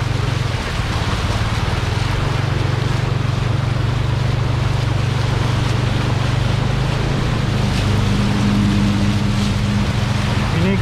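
A motorcycle rolls slowly through flood water on a flooded stretch of the Trans Kalimantan road in Handil Bakti, its low steady engine hum running continuously under sloshing water and wind.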